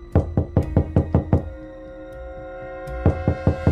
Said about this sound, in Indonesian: lalu ketukan keras di jendela